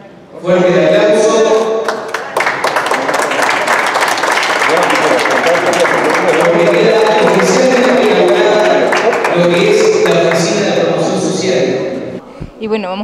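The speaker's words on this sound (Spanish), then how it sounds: "Fuerte el aplauso." Audience applause at a municipal social event in Sarandí, a dense, sustained clapping that holds loud for about twelve seconds, with voices mixed in, before tapering off.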